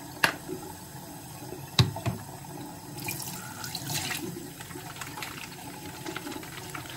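Tap water runs steadily into a bathroom sink during a morning face-washing routine, a continuous close splashing hiss with a few sharp knocks early on, heard alone without talk.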